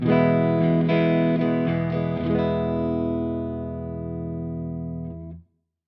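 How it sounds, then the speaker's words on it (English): A clean, dry electric guitar tuned to E standard picks a few notes, then lets a chord ring out and slowly fade before stopping abruptly. "This guitar is tuned to E standard, and dry, clean, it sounds like this."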